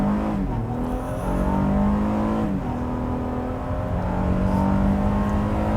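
A 2022 Honda Pilot TrailSport launches hard with traction control off, its engine rising steadily in pitch through the gears as a loud, sustained in-cabin roar, with no talking.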